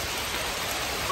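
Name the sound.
rain falling in Coorg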